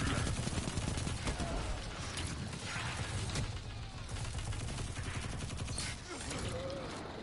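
Dense, rapid gunfire crackles steadily through a noisy game scene, bursts overlapping with mechanical clatter and occasional voices.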